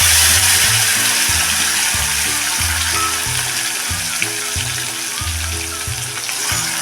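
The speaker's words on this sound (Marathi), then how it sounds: "टोमॅटो चांगला मऊ येईपर्यंत पूर्ण गळेपर्यंत आपण हा चांगला परतून घेणार आहे" Chopped tomato frying with mustard seeds, hing and curry leaves for Udupi-style sambar, a loud, dense sizzle close up throughout, with a rhythmic low mechanical whirring pattern running underneath.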